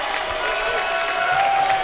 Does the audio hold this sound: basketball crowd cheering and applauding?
yes